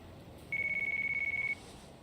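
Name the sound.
phone ringing in video game Yakuza: Like a Dragon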